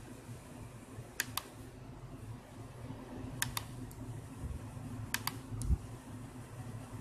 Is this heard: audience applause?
no